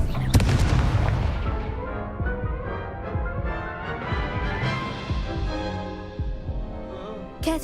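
An Incendio fire spell is cast in a Harry Potter wizarding video game, a loud booming burst followed by a rumbling, crackling tail over background game music.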